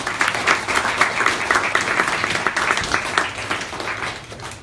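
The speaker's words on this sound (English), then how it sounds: "One more round of applause for these fantastic debaters." Audience applause rings out for the debaters at the close of a motion debate on universal basic income, a dense, steady clapping that carries at an even level throughout.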